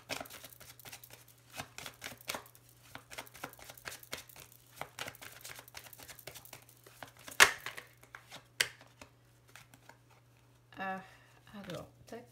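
Lenormand fortune-telling cards being laid out on a table, giving soft repeated slaps, shuffles and crinkly card sounds in short bursts with a steady low hum behind them and quiet gaps between handlings.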